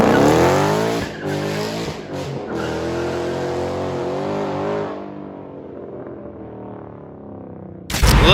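An inexpensive BMW M3, driven on the road after sitting for 13 years, roars loudly and close as its engine climbs through the revs, then eases off into a quieter rumble.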